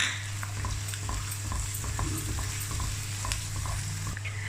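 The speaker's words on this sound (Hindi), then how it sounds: "लहसुन अदरक को फ्राई करेंगे।" Garlic ginger paste sizzles and fries in a pan while a masoor dal is being cooked, giving a steady close crackle with light scraping and stirring clicks throughout.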